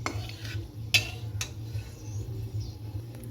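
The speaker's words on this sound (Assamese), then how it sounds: "তেলখিনি গৰম হৈ গৈছে। ইয়াতে মই দালচেনি আৰু এলাইচি দি দিছোঁ অলপমান।" Whole cinnamon and cardamom go into hot oil in a pan for an Assamese-style chicken roast, giving a few sharp, close clicks and light metallic clatter over a steady low hum.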